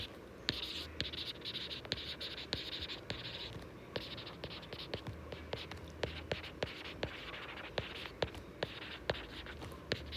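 Pen scratching out a cost formula on paper, with continuous close scratchy strokes and frequent sharp taps as letters and symbols are written, steady for the whole stretch in a quiet room.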